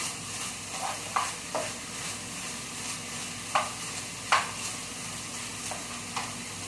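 Chicken and rice for an Ecuadorian dish being stirred in a hot pan, a steady sizzle with several sharp scrapes and clacks of the utensil against the pan, close up and alone.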